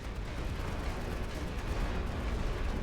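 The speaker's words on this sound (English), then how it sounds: "now he's going to start firing his artillery" Artillery fires in the World War I strategy game The Great War: Western Front: a dense, continuous rumble of distant booms and low blasts blending into a steady roar, with no voices.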